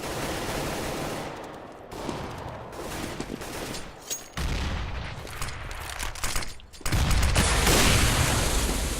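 Gunshots during a competitive shooter match demo, dense overlapping bursts of automatic fire and heavier booms, loud and close, with short gaps between volleys and no talking.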